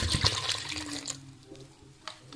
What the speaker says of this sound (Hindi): अब हम इसमें जो है तकरीबन 3 लीटर पानी डालेंगे।